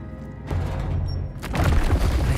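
A Depulso spell impact in the video game Hogwarts Legacy, a heavy booming thud that swells in midway and leaves a rumbling, crackling tail.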